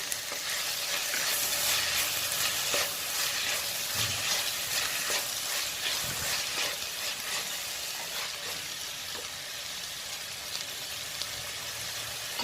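Tomatoes frying and being stirred in a pan while cooking fish biryani, a steady broadband sizzle throughout with occasional scraping stir sounds, close and moderately loud, no voices.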